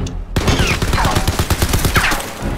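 A gun turret in the video game Crysis 3 fires rapid bursts of loud, booming shots, a dense run of close gunfire with scattered impacts that continues for the whole stretch.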